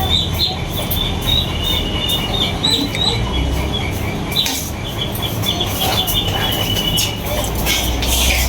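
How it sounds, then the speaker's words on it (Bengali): A train rolls past with a loud continuous rumble and rattle throughout, with high wheel squeals and scattered bird calls mixed in. "4:30 বাজার ট্রেন।"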